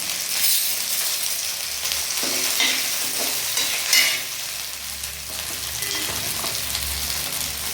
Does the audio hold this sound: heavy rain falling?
no